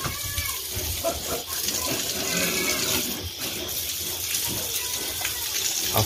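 Water runs and splashes steadily during a bath, a continuous close gushing flow.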